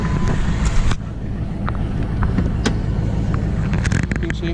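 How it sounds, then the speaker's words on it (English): Pickup truck engine idling loudly as it is shifted into reverse, a steady low rumble with wind buffeting the microphone and a few clicks and knocks over it. "We throw the truck in reverse."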